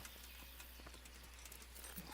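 A horse's hooves clip-clop at a steady trotting rhythm in the medieval video game Kingdom Come: Deliverance. The sound is quiet and even over a low constant hum.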